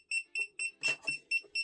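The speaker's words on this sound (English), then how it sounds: "You can activate the alarm" A Temu Bluetooth tracker gadget rings its alarm as a quick series of seven shrill electronic beeps, evenly spaced and fairly faint, with one slightly harsher beep in the middle.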